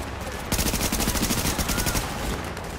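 Automatic gunfire from a weapon in Tom Clancy's The Division video game: a sustained, loud burst of rapid, evenly spaced shots lasting about a second and a half, close and alone over game ambience.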